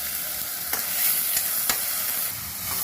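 Chopped onions with salt fry in oil in a pan for a prawn and okra stir-fry, giving a steady close sizzle with a few sharp spatula scrapes and clicks and no voices.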